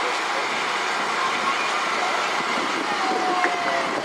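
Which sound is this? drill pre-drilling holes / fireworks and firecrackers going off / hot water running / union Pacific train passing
union Pacific train passing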